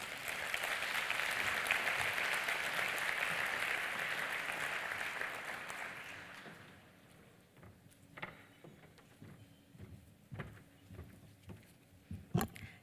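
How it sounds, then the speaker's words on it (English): A banquet crowd at a Hall of Fame induction ceremony gives sponsors a round of applause: steady, dense clapping for about six seconds that fades out, followed by scattered claps, knocks and room noise. "Let's give them a round of applause."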